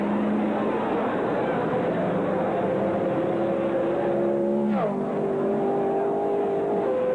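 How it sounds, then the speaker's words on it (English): A Watson-built rear-engined race car qualifies at the 1964 Indianapolis 500, its engine a sustained loud high whine holding steady, dipping sharply in pitch near the end as if passing or shifting, then resuming. "He's ready to qualify his Watson-built rear-engined racer."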